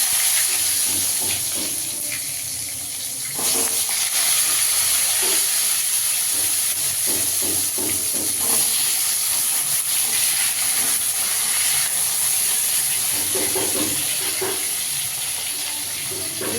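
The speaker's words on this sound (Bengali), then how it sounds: "এই তেলে বেগুনটা ভেজে নেবো" Sliced eggplant frying in oil left over from fried fish, a steady close hiss of hot oil with scattered crackles and faint clinks running throughout.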